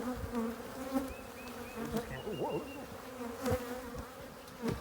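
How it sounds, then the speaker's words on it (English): Steady buzzing of many bees swarming close by, with a person briefly exclaiming in surprise over the drone. "Lots of bees."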